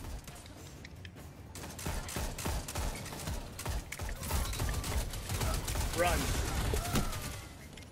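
Gunfire in a Destiny Crucible match, with bursts of rapid shots and mechanical weapon clatter rising in intensity, mixed with players talking over the action.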